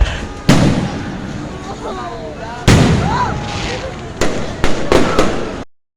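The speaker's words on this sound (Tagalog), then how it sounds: "We are watching fireworks here in SM" New Year's Eve fireworks outside SM Baguio mall in the evening, sharp booms and crackling bursts with whistling rising streaks, fairly close and loud, with people talking in the background.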